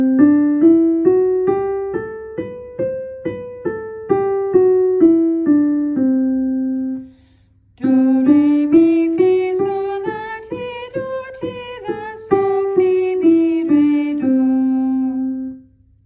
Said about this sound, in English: And that's the pattern for the Lydian scale, and it sounds like this.